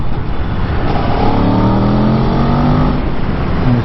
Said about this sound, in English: So I'm going to try to clutchless downshift.